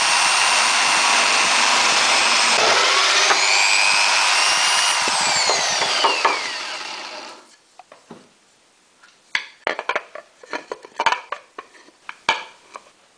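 A drill-driven ball mill runs with a loud, steady mechanical whirring and rising and falling whine for about seven seconds, then stops, leaving scattered clicks and rattles.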